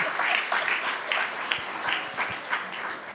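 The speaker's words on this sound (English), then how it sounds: "And clap it up for yourselves." Audience in a county awards ceremony bursts into sustained applause, a dense clatter of many hands clapping throughout, fairly close and steady.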